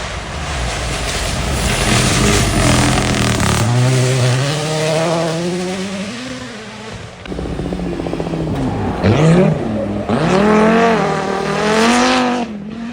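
A Mercedes Formula 1 car climbs the hill at the Goodwood Festival of Speed, its high-pitched engine screaming loud and near, rising and falling through gear changes as it passes.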